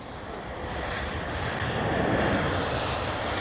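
A fixed-wing airplane lands on a runway in challenging conditions, heard as a broad, steady engine and air roar that swells slightly partway through, with no talk.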